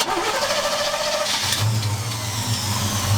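A barn-find 1979 Chevrolet Camaro V8 cranks after its electric fuel pump is primed, a rough starter churn that catches into a low, uneven rumble close by.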